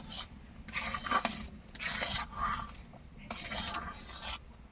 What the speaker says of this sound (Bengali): এখন নেড়ে ছেড়ে দিব।